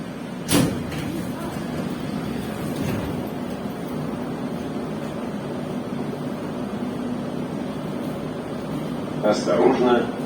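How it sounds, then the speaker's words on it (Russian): Metro train doors sliding shut at a station on the Moscow-style underground, a sharp thud near the start, then a steady carriage hum with a clatter at the end. "Осторожно, двери закрываются."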